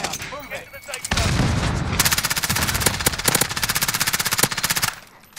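Rapid bursts of gunfire, long rattling strings of repeated shots fired close and loud, dense and continuous for several seconds before stopping, with a voice faintly audible beforehand.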